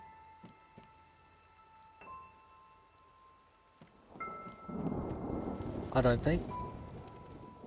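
Rain falls steadily during a thunderstorm in the video game Enderal: Forgotten Stories, alongside game ambience and tonal sounds. A loud crack of thunder rolls in near the end, and a voice briefly talks over it.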